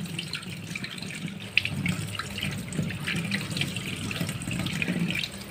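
Mutton for goat soup is rinsed under a running kitchen tap, a steady splashing stream of water into a sink that continues throughout, close and without talking.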